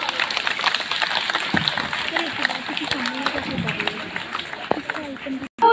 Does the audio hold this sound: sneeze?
no